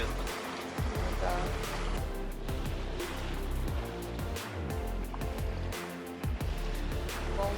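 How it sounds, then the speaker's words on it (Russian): Sea waves break and wash against rock beside a sailing yacht off the Greek islands, a loud, continuous surging rush with swells rising and falling, heard close. "Волна разбивается от скалы."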